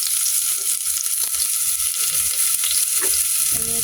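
Garlic sizzles steadily in a hot pan for chicken curry, a continuous loud frying hiss with a few faint stirring clicks and scrapes underneath, no voices.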